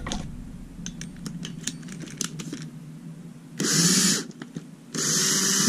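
A cordless drill with a three-piece mixer whisk attachment, starting with intermittent clicks and whirs, then two close bursts of loud high-speed spinning, each lasting about a second.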